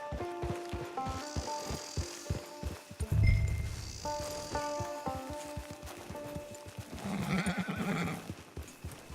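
Horse neighs and clip-clopping hooves in Red Dead Redemption 2 Online, with a whinny rising loud in the middle over rhythmic hoofbeats and a second whinny near the end, set against game music.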